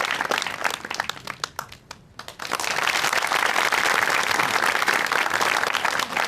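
A comedy-show studio audience claps on stage, scattered individual claps at first, then a brief lull before a full, dense wave of applause builds and holds steadily to the end.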